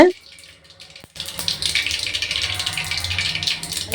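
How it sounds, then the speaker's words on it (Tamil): Turkey berries are washed in water in a kitchen: after a near-silent moment, a steady stream of running, splashing water starts and carries on, close and moderately loud. "நல்லா தண்ணியில் ரெண்டு மூணு டைம் நல்லா கழுவி எடுத்துக்கலாம்"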